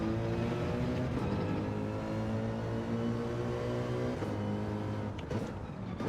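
A race car engine in Gran Turismo 7 hums steadily at high revs through a corner exit, its pitch shifting with gear changes, continuous and dense with no speech over it.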